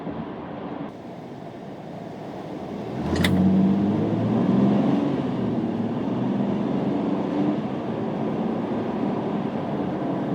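A 2015 Honda Odyssey EX-L minivan accelerates from inside the cabin as engine drone rises in loudness and pitch, with a brief sharp click before the surge and a sustained loud hum after it.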